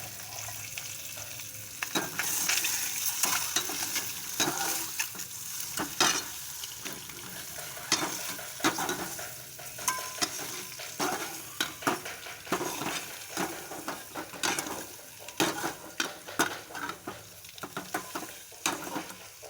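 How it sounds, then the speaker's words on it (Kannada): Eggs fry with masala in a pan, giving a steady close sizzle under repeated scraping and clanking stirs of a spatula against the metal pan. It runs continuously with no talking. "ಇವಾಗ ನೋಡಿ, ನಾನು ಚೆನ್ನಾಗಿ ಫ್ರೈ ಮಾಡ್ಕೋತೀನಿ"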